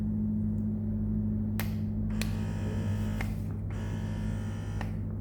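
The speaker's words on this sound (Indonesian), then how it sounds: "Ini suara mode masasnya." Electric breast pump motor, Pigeon Go Mini or Crown, running in massage mode on mains power, giving a low steady hum with several sharp clicks and short bursts, close and fairly quiet.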